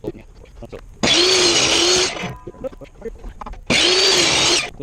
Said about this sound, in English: This is my tabletop sander.